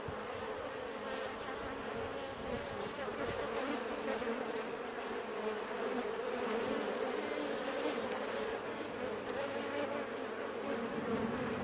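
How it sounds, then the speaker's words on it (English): Dense, steady buzzing of many bees close by at a hive entrance, a constant droning hum without pause. "there's a lot of bees on the front of this hive."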